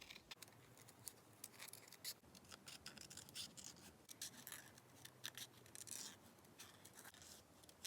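Scissors snipping roughly around a stamped paper card image, a quick run of crisp, dry cuts and paper rustles, close and quiet.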